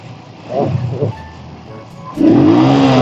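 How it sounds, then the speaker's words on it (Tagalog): A motorcycle with a drivetrain fault drones without moving forward: a moderate engine hum rises briefly, settles, then swells into a louder, steady roaring drone for the last second. "Puro ugong lang siya, ayaw diyang umabante."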